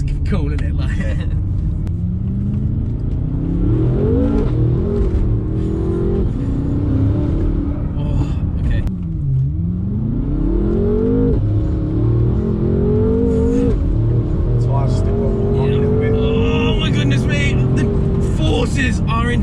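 A tuned 1000bhp BMW M5 F10 revs and accelerates hard, a loud, continuous engine roar that rises and dips in pitch through gear changes, with people talking over it.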